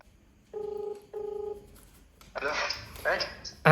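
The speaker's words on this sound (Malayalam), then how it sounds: "ഞാൻ എന്തായാലും ഷാലു ചേട്ടൻ്റെ ഫോണിലൊന്ന് വിളിക്കാം." A mobile phone call being placed: two short, loud, steady electronic dial or ringback beeps, followed by brief talking.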